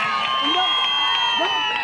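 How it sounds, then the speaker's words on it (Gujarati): A crowd at an SRP Group 7 cultural program in Nadiad cheers in a brief, steady burst of noise, with high sustained whistling tones riding above the voices. "જોરદાર તાળીઓ થઈ જાય"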